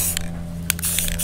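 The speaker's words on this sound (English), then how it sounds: "so we're doing a little bit of spray painting" Short hissing bursts of spray paint coat rusty interior parts from a 1971 Oldsmobile Cutlass, several quick puffs over a steady low hum.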